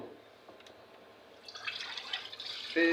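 Hot water drained off cooked noodles, a faint trickle swelling into a louder splashing pour, ending in a short tonal sound.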